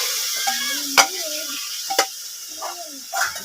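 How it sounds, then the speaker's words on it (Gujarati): Oil sizzles softly in a pan as cluster beans fry, while a voice murmurs over it, punctuated by a few sharp clicks. "ગુવારનું શાક થોડીક તેલમાં તળવા દેવું"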